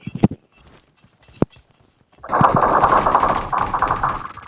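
Video game gunfire: a few sharp isolated shots, then a dense, sustained burst of rapid automatic fire that continues loudly to the end.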